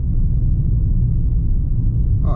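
A 2018 Ford Ka 1.5 SEL cruises in fifth gear at 100 km/h, heard from inside as a steady, loud low rumble of engine and road noise with no break.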